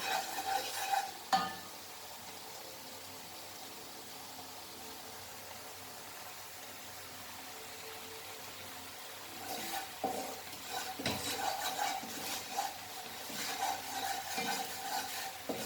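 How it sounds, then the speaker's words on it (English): Masala frying in a pan, stirred with spatula scrapes at the start and again toward the end. Between them runs a soft, steady sizzle, close but fairly quiet, with no voices. "So this is nicely fried masala."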